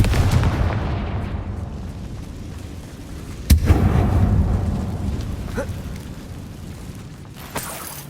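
A Confringo spell explosion in Hogwarts Legacy goes off inside a closed mine, a sharp loud blast that trails into a rumbling roar, over a steady dark ambient drone, with a fainter second hit near the end.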